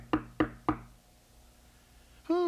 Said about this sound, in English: Oh, it sounds as if there's someone at my door.